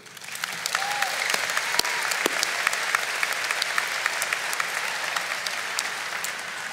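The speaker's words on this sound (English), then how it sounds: "A round of applause for our parents," Sustained applause from a graduation audience honoring parents at a high school ceremony, a dense, even wash of clapping that holds steady throughout.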